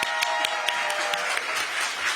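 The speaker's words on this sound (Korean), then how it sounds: "다시 한번 박수하겠습니다." A second, stronger round of audience applause at a launch ceremony, a dense continuous wash of clapping from a seated crowd with a few sharper claps standing out.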